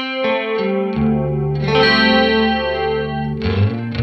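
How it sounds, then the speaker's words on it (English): Guitar chords ringing through an EarthQuaker Devices Rainbow Machine pedal with the pitch knob centered, giving a shimmering chorus sound across several changing strums, loud and close with no talking. "It has a chorus feel,"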